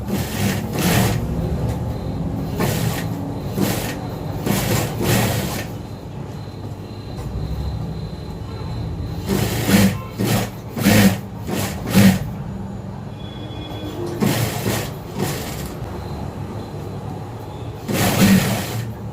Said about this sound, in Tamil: இப்போ இது வளைவு வரும்போது நம்ம அப்படியே மிஷின் தானாக போகும்.